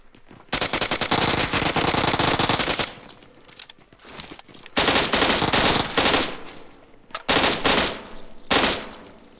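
Bursts of automatic gunfire in the PUBG Mobile video game, several loud rapid volleys split by short pauses, heard alone at close range.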